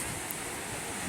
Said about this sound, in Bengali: আওয়াজ পাচ্ছ সমুদ্রের আওয়াজ